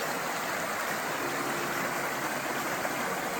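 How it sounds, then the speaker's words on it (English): The Little Missouri River near its headwaters on a forest hiking trail, a steady broadband rush of flowing water at moderate level, continuous and unbroken, with no talk. "the Little Missouri River, whose headwaters you see before you"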